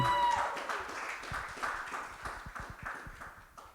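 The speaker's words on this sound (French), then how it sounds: "un tonnerre d'applaudissements, Sébrine qui va nous apporter le message d'aujourd'hui" A church congregation at a Sunday worship service applauds, a bright ringing tone fading at the start as scattered, uneven clapping builds and then thins out.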